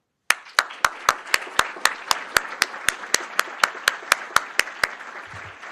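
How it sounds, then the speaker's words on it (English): Slow rhythmic clapping at an anniversary reunion panel for the STS-61C space shuttle crew, about twenty evenly spaced sharp claps over a soft bed of crowd applause, stopping abruptly near the end. "a round of applause for our American heroes"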